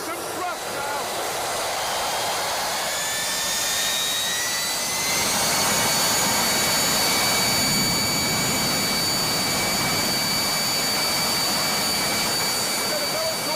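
A jet engine roars steadily after ignition as it is throttled up, a broad loud rushing whine with rising high tones building over several seconds, while a person talks faintly beneath it.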